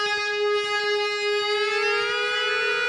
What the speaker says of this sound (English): I like to either volume swell into it or start it away from the pickup and move towards the pickup